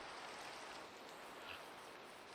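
Steady broadband rain hiss in a video game, falling continuously and evenly at a low level with no other distinct sounds.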